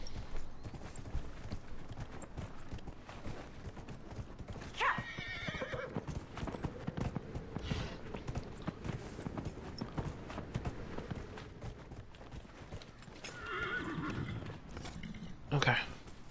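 Rhythmic horse hooves clip-clop at a steady pace in the video game Dragon Age: Inquisition, with an occasional whinny and faint creaking gear over quiet background.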